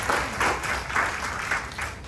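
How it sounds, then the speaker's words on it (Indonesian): Church congregation applauding together, a full, steady round of clapping from a large crowd that rolls on evenly for a couple of seconds. "Yang setuju dengan saya, beri tepuk tangan yang meriah bagi Allah."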